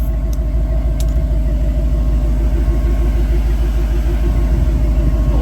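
A vehicle engine rumbles and strains under load at close range during a tire grip test, a steady low drone with a rhythmic driveline throb and a couple of faint clicks.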